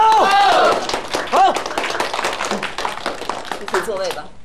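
Classroom applause welcoming a student back, a brisk patter of many hands clapping, partly masked by voices talking over it.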